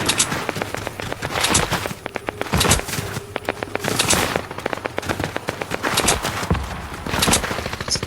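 Rapid bursts of automatic gunfire and single shots in a Fortnite match, loud and close, coming in repeated clusters with brief gaps between volleys.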